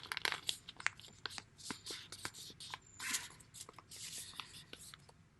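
Paper being folded and creased into a paper boat, with close, soft crinkling and sharp crisp rustles in irregular bursts, fairly quiet throughout.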